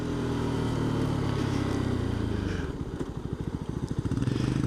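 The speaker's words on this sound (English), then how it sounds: "it's got that single cylinder pop, pop, pop, pop, pop, pop, pop, pop that you get" A 2022 CF Moto 300 SR single-cylinder motorcycle on the road, with a steady loud engine drone that shifts into a rapid, rhythmic popping putter as the bike slows down through the gears.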